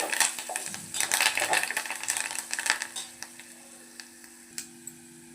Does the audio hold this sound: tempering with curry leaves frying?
yes